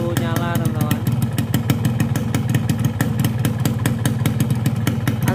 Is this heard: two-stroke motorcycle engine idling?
yes